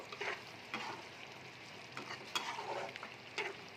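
Stuffed pointed gourd is stirred gently in a pan with ghee and garam masala, giving soft, spaced scraping strokes over a faint sizzle.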